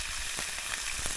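Steady crackling sizzle of vegetables stir-frying in a hot wok, loud and close, with no voices.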